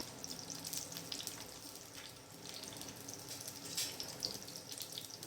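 Broccoli stems are rinsed under a running kitchen tap, making a soft, steady stream of splashing water with no talk.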